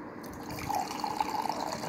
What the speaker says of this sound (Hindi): आज हम पानी डाल रहे हैं ग्लास में।